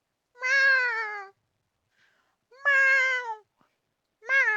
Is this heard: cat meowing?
yes